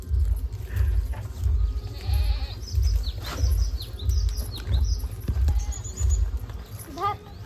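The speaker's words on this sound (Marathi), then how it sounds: "बकरा बघा कसा ओरडतो आवाज द्यायला लागला" A male goat bleats several times in a rural village setting, with bird chirps nearby and people talking throughout.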